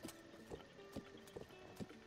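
Horse hooves clip-clop at a steady riding pace in Zelda: Breath of the Wild, with four or five evenly spaced, faint hoof strikes over a soft background.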